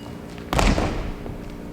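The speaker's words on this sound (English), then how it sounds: "So now we will show our squat jump." A single heavy thud of a squat jump landing on a floor during a lower-body PE exercise demonstration, one loud impact followed by a brief fading rumble.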